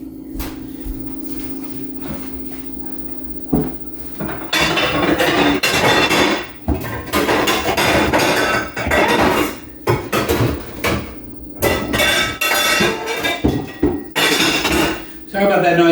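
Pots and pans clatter and crash loudly in a burst of metallic banging, following a quieter stretch with a low hum.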